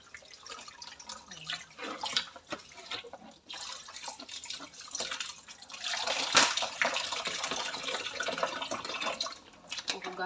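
Running water from a tap while something is washed and rinsed at a sink, a continuous splashing hiss with irregular surges and drips, close by.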